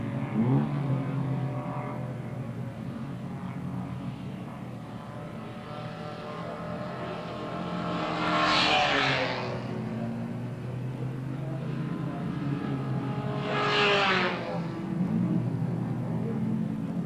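Historic racing cars, including an Austin-Healey, drone around Phillip Island Circuit at the 1978 Australian Grand Prix, their engines swelling loudly as two pass close by, then fading into a distant roar.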